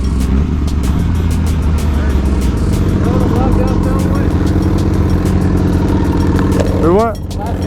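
Sport motorcycles, a GSXR1000, Yamaha R6, GSXR750 and CBR600RR, idle together with a loud, steady close-up rumble, a brief throttle blip near the end, and riders chatting over the engines.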